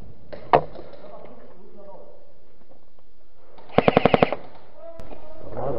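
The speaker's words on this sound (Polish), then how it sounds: "Strzela do nas!" Airsoft gun shots during an indoor CQB game, a single sharp crack followed later by a rapid burst of about six shots, with people talking around it.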